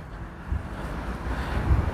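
Cool night breeze blows steadily at a mosque forecourt in Turkey, a soft broad rush with mild gusts buffeting the microphone, no talking.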